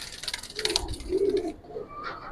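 A young female Giribaz pigeon gives a soft, close coo in a short low burst, alone with faint background rustle.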